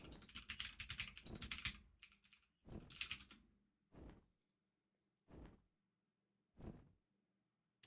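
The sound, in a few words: typing on a clicky backup computer keyboard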